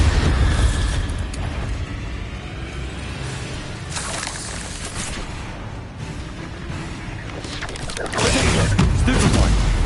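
Bombarda spell explosions in Hogwarts Legacy, a series of loud bursting blasts around one, four and eight seconds over a steady background of game noise, no talk.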